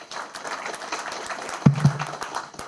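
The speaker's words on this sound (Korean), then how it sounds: "김순훈 박사님을 박수로 맞아주시기 바랍니다." Applause welcomes a speaker at a city council policy forum, a moderate spread of clapping from the audience in a hall, with a couple of sharper thumps near the end.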